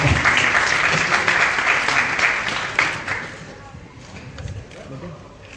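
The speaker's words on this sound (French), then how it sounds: "Des applaudissements." A crowd claps steadily in sustained applause that fades gradually toward the end.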